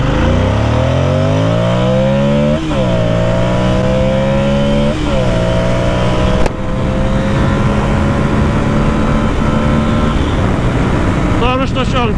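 Ducati Monster 600 motorcycle ridden at full throttle, its engine roaring loud and close as it climbs through the revs, with a couple of gear shifts and a brief drop in pitch before it pulls hard again.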